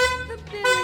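Stock factory horn on a Chery Tiggo Cross honking in two short, loud twin-tone blasts with a brief gap between them, close to the microphone.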